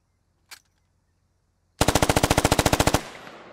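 A single shot cracks, then after a short pause a rapid automatic burst of about twenty rounds fires in an even rhythm in the military shooter game Squad, loud and close and followed by a fading echo.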